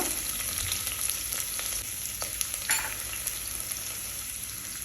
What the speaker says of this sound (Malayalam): ഏറ്റവും ലോ ഫ്ലെയിമിൽ വെക്കുക എന്നിട്ട് നമ്മൾ അരിഞ്ഞു വെച്ചേക്കുന്ന വെളുത്തുള്ളി അതിലേക്കിടുക